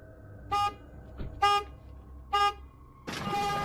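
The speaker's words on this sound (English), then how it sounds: "the car alarm goes off" A car alarm goes off on a neighborhood street, three short, evenly spaced horn blasts followed by a longer continuous honk, loud and close.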